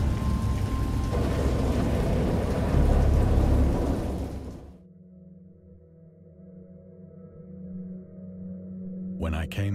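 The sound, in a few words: rain and thunder in the video game Dagon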